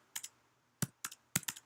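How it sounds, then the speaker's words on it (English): A handful of scattered computer keyboard key presses in a snake game, sharp isolated clicks arriving singly and in quick pairs, close and fairly quiet with no talking. "for example, you press like some just random keys, it will not affect your game at all"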